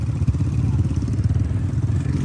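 A motorcycle engine runs steadily and loudly up close, with a rough, clattering idle throughout.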